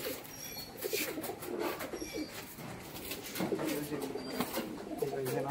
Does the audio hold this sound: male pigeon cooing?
yes